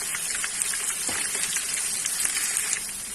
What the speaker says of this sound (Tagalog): Ipa-brown lang natin siya ng konti yung onions.